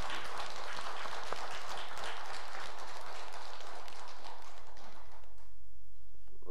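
Congregation in a Korean church giving a round of thanksgiving applause during Sunday worship, dense broadband clapping filling the room for about five seconds before cutting off abruptly into near silence.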